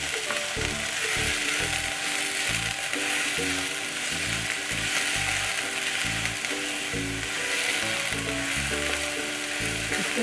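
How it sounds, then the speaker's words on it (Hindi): Green onions sizzle and roast in a kadhai for smoked eggplant bharta, a continuous close frying hiss with thumping stirring strokes throughout. "हरा प्याज और इसे 2 मिनट हम कढ़ाई में सेकेंगे।"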